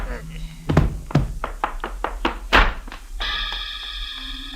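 Blows thud against a man's head in a radio mystery scene, a rapid run of sharp knocks and thumps peaking in one heavy strike before a lingering ringing tone.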